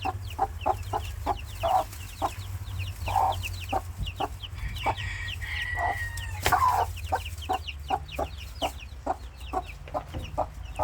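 Mother hen protecting her chicks in a farm enclosure, giving steady, rhythmic clucks up close, repeated all through, with a short rooster-like crow partway in over low rumbling background noise.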